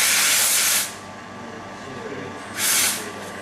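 Espresso machine steam wand blasts two loud, sharp hisses, one at the start and another near the end, separated by a quieter lull in a café setting.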